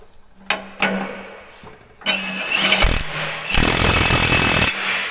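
A Hercules half-inch impact wrench works drive shaft bolts on heavy equipment, with a few sharp clanks and short bursts leading into loud, sustained rattling hammering near the mic.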